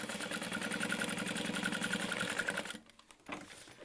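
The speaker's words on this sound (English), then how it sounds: "I was gonna sew across the bottom, but I need to sew across the top." A sewing machine runs steadily stitching a crossbody bag for nearly three seconds, a close, fast mechanical whir that then stops, followed by a brief faint rattle.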